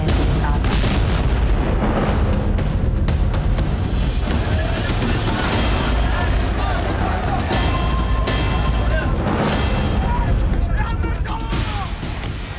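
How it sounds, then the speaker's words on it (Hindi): Heavy blasts and rapid booming bursts sound around a hospital in the Gaza Strip on an October evening, loud and nearly continuous, with voices rising under the din. "गाजा पट्टी के पट्टी में एक जोरदार धमाका हुआ"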